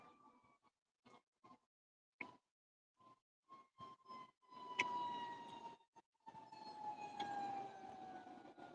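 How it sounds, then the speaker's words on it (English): An ambulance siren sounds in broken, faint bursts before swelling into a steady wail as it approaches and passes, with the pitch sliding slightly downward. "Oh, there's an ambulance coming."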